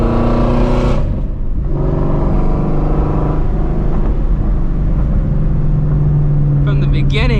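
A Ford Shelby GT350's exhaust rumbles loudly and continuously during a night drive, its pitch rising and settling as the car accelerates, with a voice talking over the engine.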